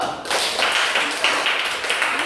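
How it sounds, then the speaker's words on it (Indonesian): A group of children in a classroom claps hands together, a fairly steady stream of sharp claps at close range with no one speaking over it. "Oke, tepuk tangan dulu."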